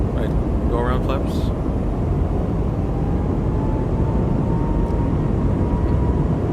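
A Microsoft Flight Simulator 2024 A220 airliner roars through a go-around with a dense, steady engine rush and a faint whine. Brief synthetic cockpit callouts sound early on.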